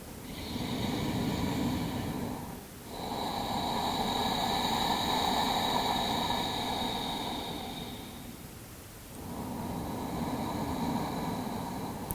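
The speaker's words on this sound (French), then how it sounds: "cette respiration du son des vagues avec l'arrière-gorge" Slow, steady ujjayi yoga breathing drawn through a constricted throat, giving a soft oceanic hiss in long inhale and exhale cycles, close and continuous.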